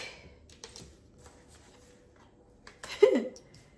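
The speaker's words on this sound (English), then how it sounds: "And y'all see me shuffle" A deck of tarot cards being shuffled by hand: soft, close papery riffles and taps, ending in a louder burst of flicking cards.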